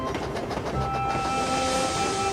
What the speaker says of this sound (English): Gordon and Percy puffed through the snowy countryside